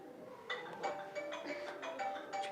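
A mobile phone rings in a domestic scene from a Congolese film, a repeating melodic ringtone pattern at moderate volume with a faint murmur beneath it.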